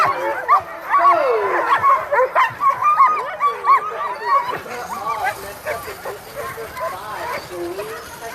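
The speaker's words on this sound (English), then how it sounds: "the dogs are kind of drowning that out" Sled dogs bark, yip and whine close by at a dog mushing race, a dense, excited chorus in bursts with people talking underneath.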